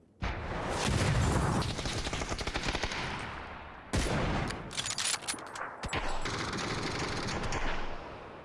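Rapid automatic gunfire in PUBG: Battlegrounds bursts loudly, pauses briefly, then resumes in several stuttering volleys with a sharp electronic, game-like quality.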